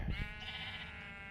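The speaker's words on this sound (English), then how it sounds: "I'll let you live, sheep. I don't need you anymore." Sheep in the video game Minecraft bleat in one sustained, close, buzzy cry with a sharp onset, heard on its own with no talking.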